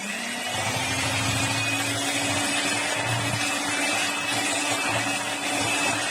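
An electric mixer beating eggs into a sugar-free peanut coating mixture, a loud, steady motor whine with a low churning rumble running unbroken throughout.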